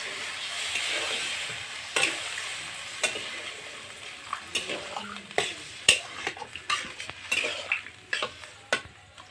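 Stirring a pot of chicken curry after water is poured in: scattered metallic scrapes and clinks of a utensil against the pan over a soft, steady simmering hiss, close and moderately quiet.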